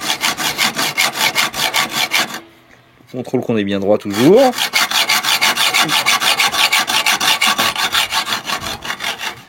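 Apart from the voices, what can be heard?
hand saw cutting bicycle fork steerer tube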